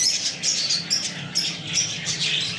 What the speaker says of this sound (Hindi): और ये जो ग्रीन ग्रीन तोते हैं ना,